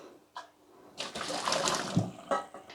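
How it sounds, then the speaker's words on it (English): Water pours and splashes in a short rush from a pot of boiled vegetables and potatoes, a few clattering knocks breaking through as it drains away close by. "So I'm going to just drain the water underneath."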